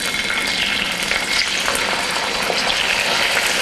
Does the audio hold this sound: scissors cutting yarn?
no